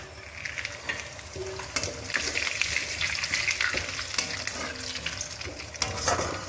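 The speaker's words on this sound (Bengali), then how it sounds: "চিংড়ি ভাজার তেলে ফোড়ন দিচ্ছি সাদা জিরে, এলাচ, লবঙ্গ, দারচিনি আর তেজপাতা।" Steady crackling sizzle of cumin, cardamom, cloves, cinnamon and bay leaf frying in oil left from frying prawns, close and continuous, with occasional stirring clinks and no talking.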